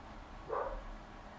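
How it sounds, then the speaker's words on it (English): A single short dog bark sounds faintly from another room, muffled and distant beneath a steady indoor background. "My dog is barking."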